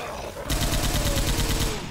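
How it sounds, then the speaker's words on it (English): A Gatling gun in Left 4 Dead 2 fires a loud, rapid, continuous stream of shots starting abruptly and running steadily to the end, with a whining spin-up tone underneath. "I got the Gatling gun."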